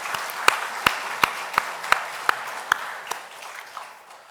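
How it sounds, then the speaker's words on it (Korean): A church congregation at a Korean Thanksgiving Sunday service claps in a slow, regular rhythm, about ten sharp, evenly spaced claps that fade toward the end. "우리 수고 많이 하신다고 격려에 큰 박수를 좀 보내주시기 바랍니다"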